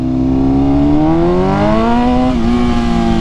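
A BMW M1000RR superbike fitted with a very loud aftermarket exhaust revs steadily and close up, its harmonic engine note climbing in pitch over several seconds, dipping briefly, then holding high with no talking.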